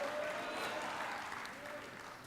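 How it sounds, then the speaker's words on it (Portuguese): A church congregation applauding loudly during a sermon: dense, steady clapping from a crowd that holds for a couple of seconds and then eases slightly, heard from a distance at low volume. "Dá um aplauso para Jesus que nos ama, bem forte"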